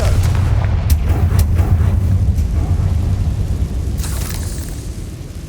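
A Confringo fire spell bursts in Hogwarts Legacy, a loud continuous low rumbling blast with crackling bursts layered over a heavy boom, lasting throughout and swelling again near the end.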